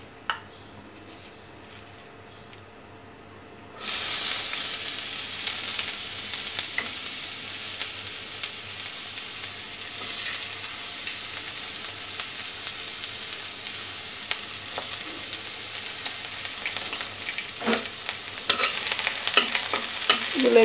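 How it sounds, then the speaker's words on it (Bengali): Onion and green chili frying in oil, a quiet hum for a few seconds before a sudden loud steady sizzle starts and continues, with occasional stirring scrapes near the end. "এর মধ্যে পরিমাণ মতো তেল দিয়ে দিব পেঁয়াজ আর মরিচ।"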